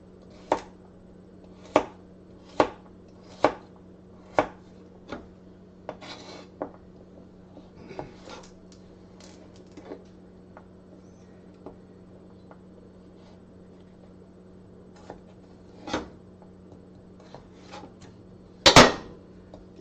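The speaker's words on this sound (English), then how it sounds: "But you have your hand over the knife, so that you're not in danger of cutting yourself with these, because carrots are very hard to cut through." A knife chopping hard carrots on a board for a rustic soup or stew: a run of sharp, evenly spaced close chops, then scattered softer cuts and one loud clatter near the end, no talking.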